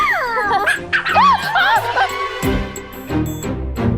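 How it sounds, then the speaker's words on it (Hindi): A dog barks and whimpers in a household comedy scene, giving sharp yips and whiny high calls mixed with laughter and voices, all loud and close. "ये कुत्ते की आवाज कहाँ से आ रही है?"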